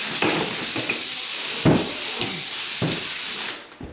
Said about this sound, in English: Now I just want to sand.